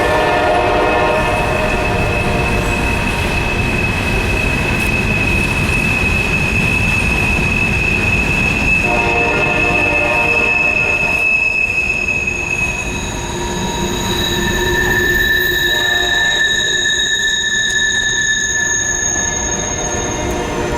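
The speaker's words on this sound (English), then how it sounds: "There's a train going by and it's super loud" A train passes close by in a wooded West Virginia river valley in winter, with a loud, steady rumble of cars, squealing wheels and sustained horn-like tones running throughout.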